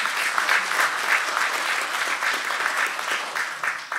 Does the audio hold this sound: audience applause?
yes